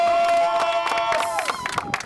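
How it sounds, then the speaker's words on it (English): Audience at a televised prize presentation, where a winner receives a brand new Kia Sportage 4x4, bursts into crowd noise with cheering and scattered clapping, loud and close, with a bright tonal sound running through it. "Applause!"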